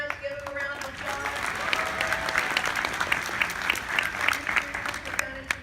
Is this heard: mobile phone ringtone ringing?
no